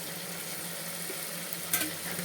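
Carrot, potato and other vegetables sizzle softly in a pan for kichadi as they are stirred together, a faint steady frying hiss with a small scrape of the spoon near the end.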